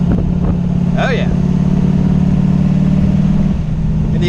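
Sunbeam Tiger with a swapped 289 V8 and carburetor, heard on a test drive: a steady, loud engine drone that holds near-constant for several seconds with a brief change in tone partway through.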